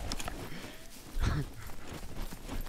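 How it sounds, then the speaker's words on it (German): Faint hoof clops from a horse in the survival game SCUM, with a soft low thump partway through and quiet game ambience around it. "das ist ein Pferd"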